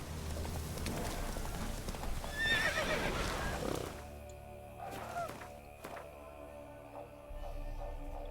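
Roach, a horse in The Witcher 3, neighs in a loud close whinny, with clip-clop hoofbeats under it. The hooves thud on and a quieter stretch follows.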